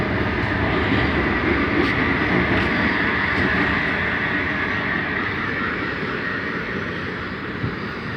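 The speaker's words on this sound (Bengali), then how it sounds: "একটা মেট্রো চলে গেল।" A metro train passes close by during lockdown, a broad, loud, steady rumble and rush of rolling noise that fades slightly toward the end.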